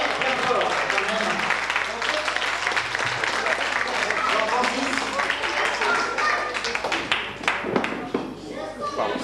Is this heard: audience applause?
yes